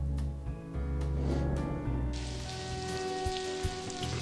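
Steady rain patters down in the adventure game The Blackwell Convergence, a constant hiss under a layer of background music with no talk.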